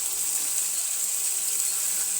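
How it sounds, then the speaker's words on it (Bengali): Hot water pours steadily into a cooking pot of green chili and tilapia curry, a continuous bright hissing splash lasting a couple of seconds with no talk. "এই যে আমি গরম পানি ঢেলে দিলাম।"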